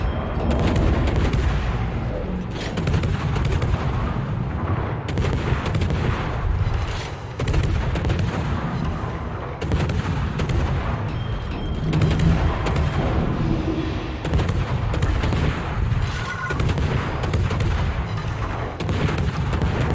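Naval guns from a warship in World of Warships fire at a submarine, with loud repeated booming salvos and rumbling blasts in steady succession throughout, no voices.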